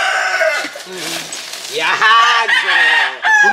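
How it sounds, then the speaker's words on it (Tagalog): Chickens cluck and squawk up close, loud and repeated, while a person speaks briefly over them. "Ito ay mga manok din yan, ang nandyan."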